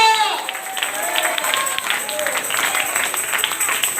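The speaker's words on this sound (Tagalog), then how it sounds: "Sige, palakpak para sa Diyos." A church congregation claps together during a sermon, a steady, sustained wash of many hands with a few voices calling out over it, filling the room throughout.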